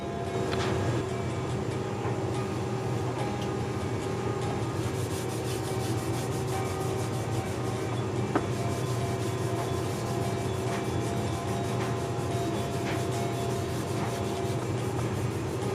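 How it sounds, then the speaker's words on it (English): Steady hand rubbing of a tanto knife blade with rubbing compound, a continuous dry scratchy friction noise at even loudness, close and without speech. "we're going to go ahead and clean this off and then rub it down with some rubbing compound"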